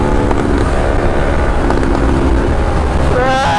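A 2021 Yamaha NMAX scooter cruising during break-in, a continuous engine drone with heavy wind rush across the microphone, loud and close, with no talk.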